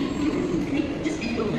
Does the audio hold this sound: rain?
no